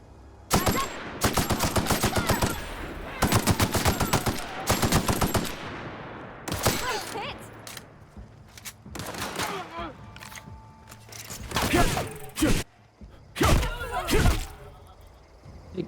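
Assault rifle gunfire in The Outer Worlds: repeated loud, close bursts of rapid automatic fire with short pauses between volleys, then scattered single shots and impacts.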